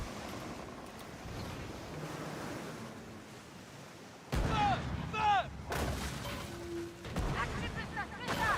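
Ship cannon fire in the Skull & Bones video game at sea, with loud booming shots arriving in a burst after a quieter stretch of ocean wind and surf.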